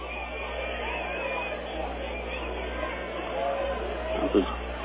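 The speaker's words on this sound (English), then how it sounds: "Great crowd on hand tonight, folks." Murmuring crowd of about five thousand at a minor league baseball game between the Bakersfield Blaze and the Rancho Cucamonga Quakes, a steady distant hubbub beneath close play-by-play commentary.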